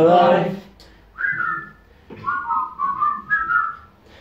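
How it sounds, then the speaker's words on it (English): A man whistles a tune after a brief sung line, clear melodic phrases, close and loud. "Just purse your lips and whistle, that's the thing."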